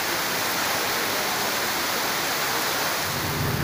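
Dense, steady hiss of heavy rain pouring down, loud and unbroken throughout.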